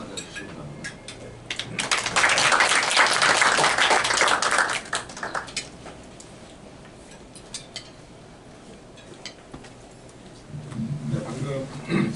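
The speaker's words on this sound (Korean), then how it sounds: "큰 박수로 맞아주시기 바랍니다" Audience clapping for a professor walking up to speak at a lecture, a burst of dense applause that swells for a few seconds, then thins to scattered claps and murmuring before a voice starts talking.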